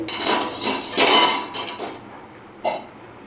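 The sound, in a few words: cooking pot lid being opened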